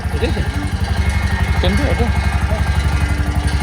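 An auto rickshaw engine idles close by with a rapid, pulsing putter, while voices talk over it throughout.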